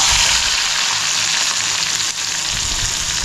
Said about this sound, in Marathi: कढईमध्ये तेल पण टाकलंय, थोडा जिरा टाकते आणि त्याच्यामध्ये कांदा, एक कांदा मोठा आणि 2-3 हिरवी मिरची ही आता त्याच्यामध्ये टाकते